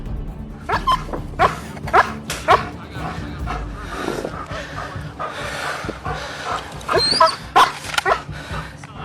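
A police dog barks repeatedly at a fleeing suspect outdoors near woods, with sharp barks spread through the clip over continuous background noise and some shouting.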